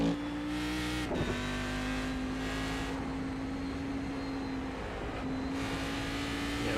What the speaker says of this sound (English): Yeah, nothing really beats the sound of a big motor.